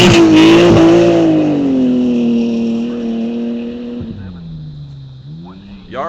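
Rally car on a sandblast rally special stage, engine droning loud near at first, then fading and dipping as it moves off, with a brief rev toward the end and speech over it.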